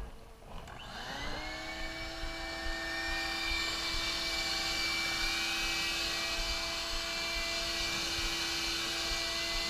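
Bee removal vacuum running steadily at a house in southwest Houston where bees nested between floors, a loud continuous motor whine with sustained tonal hum after a brief start, no talk.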